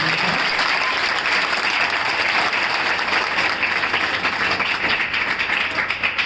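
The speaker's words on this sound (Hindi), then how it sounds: "एक बार जोरदार तालियों से बच्चे का" Loud, sustained applause from a school audience, many hands clapping densely and continuously throughout, close and full, tapering only slightly near the end.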